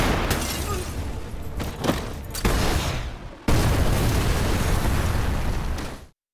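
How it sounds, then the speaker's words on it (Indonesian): A car explodes in an action film amid a gunfight, heard as loud, dense booming bursts and crackling blasts that swell twice and roll on for several seconds before cutting to silence. "satu mobil meledak dan membuat semua orang panik"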